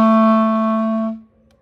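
A single sustained low B on a clarinet, steady and clear with a rich reedy tone, held for about a second before it stops cleanly, played alone with no talking.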